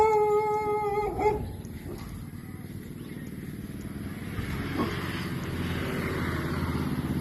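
Dogs in a Thai village yip and whimper close by in a short high burst, then fall quiet under steady outdoor background noise with a distant motor hum.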